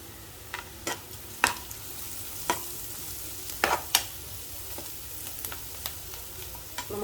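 Onions fry with chili powder and turmeric for stuffed capsicum, a soft continuous sizzle broken by several sharp spoon clacks and scrapes against the pan.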